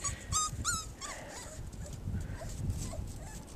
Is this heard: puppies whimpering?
yes